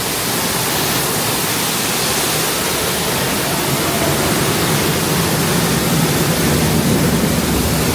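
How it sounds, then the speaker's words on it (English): A waterfall at Shanghai Disneyland mists constantly, giving a loud, even, hissing rush of falling water that holds steady throughout with no breaks. "There's a waterfall constantly misting"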